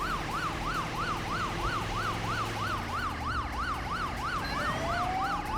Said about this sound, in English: Go for some dual sirens, because I love dual sirens.